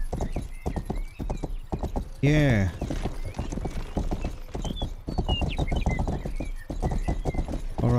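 Horse hooves clip-clop in a steady rhythm in the Rustler video game, close and continuous, with a loud whinny partway through and someone talking over the hoofbeats.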